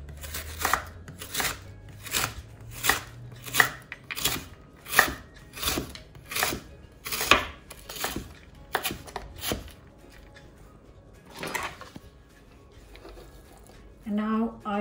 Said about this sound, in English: what I'm going to do is just roughly chop them